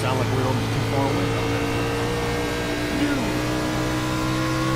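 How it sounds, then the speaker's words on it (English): Race cars rev at the Nashville racetrack, a steady, fairly distant engine drone with rising and falling pitch, heard under people talking close by. "That's the only time you're going to hear the cars tonight."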